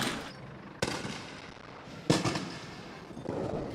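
Sharp bangs of rubber bullets and tear gas launchers fired by police at street protests in Hong Kong, two loud reports a second or so apart over a steady crowd and street din.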